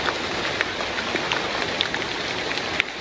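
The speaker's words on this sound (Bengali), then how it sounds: "বাইরে জুড়ে বাতাস আর বৃষ্টি শুরু হয়েছে অনেক দূরে" Steady rain pours down during the rainy season in a rural village, a dense continuous hiss with scattered nearby drops pattering on surfaces and no voices.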